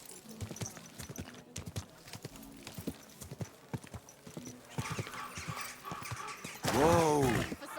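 Horse hooves clip-clop at a steady walking pace in the medieval game Kingdom Come: Deliverance II, with a neigh near the end and speech at times.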